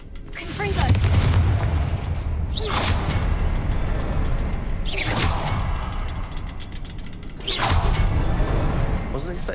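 Three Confringo blasting spells burst in Hogwarts Legacy, each a sharp whooshing crack swelling into a booming explosion, spaced a couple of seconds apart over a rumbling game soundscape.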